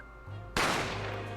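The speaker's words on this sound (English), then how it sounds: "I didn't have time to think about where the sound of the gunshot had come from." A single gunshot in The Great Ace Attorney Chronicles, a sudden loud crack bursting out of a quiet low hum and trailing into a broad decaying rumble.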